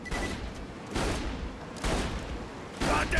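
Gunfire from the Herald in Borderlands 2, heard as several bursts of shots about a second apart. Each burst is loud and broadband and sits over steady game background noise.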